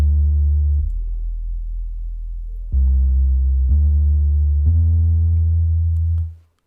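Heavy, distorted synth bass line from a DX10 in FL Studio for an Afro house track, playing sustained thick notes with a few changes in pitch, loud and alone.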